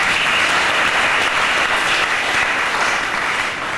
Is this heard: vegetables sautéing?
no